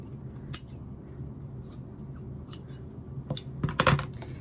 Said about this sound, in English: And then I can go ahead and just cut this part off of the top.